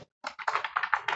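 Quick keystrokes clatter on a computer keyboard while code is written, a short burst of about a dozen close, crisp taps in an uneven rhythm with no talking.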